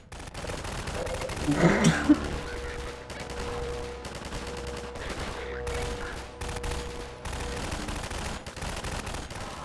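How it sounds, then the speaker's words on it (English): Automated turrets in the video game Half-Life 2 fire rapid bursts of gunfire, with sharp cracks clustered through the latter half over a steady humming background tone. "I do kind of like that the turrets freak out."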